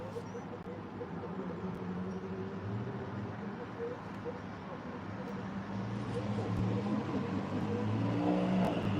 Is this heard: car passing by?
yes